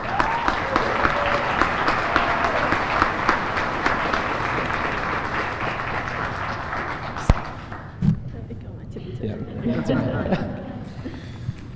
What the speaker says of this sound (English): give her a brief round of applause